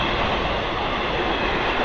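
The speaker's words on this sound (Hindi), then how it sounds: "कोई ट्रेन है जो कि जा रही है" A local passenger train on the Patna–Rajgir line rolls past at night, a steady, loud broadband rumble of wheels and carriages that holds unbroken from start to end with no voices.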